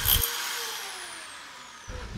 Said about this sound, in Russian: взялся за свои инструменты и начал опять сверлить